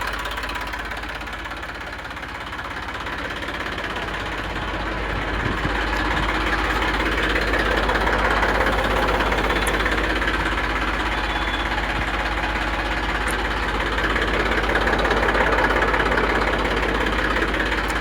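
An Eicher 380 42 hp tractor engine idles steadily, a close, even low rumble with a faint knocking texture that runs throughout with no speech.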